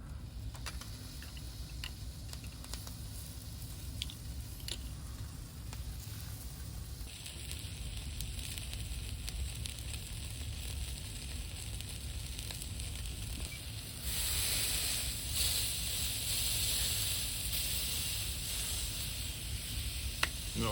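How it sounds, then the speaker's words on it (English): Vargo Triad multi-fuel camp stove burning with a steady broadband roar and faint sizzling, growing louder and brighter in the last third, with small ticks and crackles throughout and no talk. "for a little stove, this thing puts out a lot of flame"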